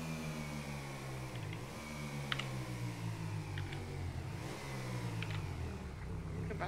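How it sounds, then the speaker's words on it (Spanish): A motorcycle engine in the zombie roleplay video game Zombie Adictos RP hums and revs continuously, its pitch rising and dipping in several swells, with faint clicks over the steady drone. "coño, que la moto suena mucho"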